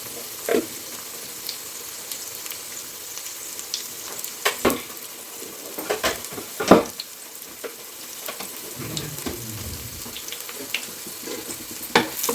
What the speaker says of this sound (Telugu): ఆనియన్ ఎర్రగా వేగాయి కదా